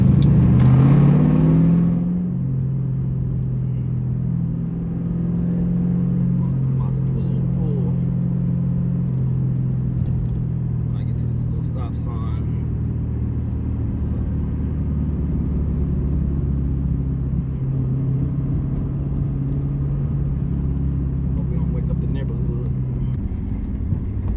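A 2007 Ford Mustang GT V8 with a Bama SCT tune rumbles and revs during a quick pull, a loud sustained low engine drone from inside the car that rises and holds across the run.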